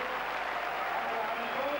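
Applause from an indoor audience at a 1990 climbing World Cup in Nuremberg, a steady wash of clapping under a commentator's voice, sustained and fairly distant.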